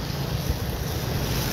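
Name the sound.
overflowing creek water rushing strongly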